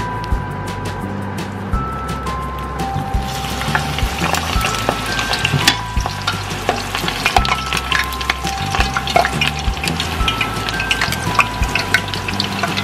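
Squash and prawn fritters (okoy) deep frying in hot oil give a loud, steady sizzle and crackle that runs throughout, close and continuous with no talking.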